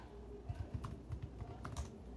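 Quick, light keystrokes on a computer keyboard, a steady run of close clicks at a moderate, even pace in a quiet room.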